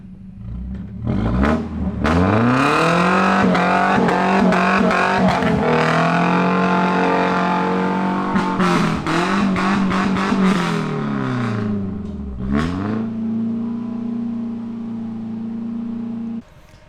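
Old Blue, a Toyota truck with a manual transmission, revs and drives offroad at the Toyota Jamboree. The engine is loud and close and climbs through several rising and falling revs, then settles into a steady idle near the end.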